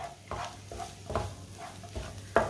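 Egg and spinach curry cooks in a pan with a soft sizzle while a spoon stirs and mixes it in several slow, rhythmic scrapes.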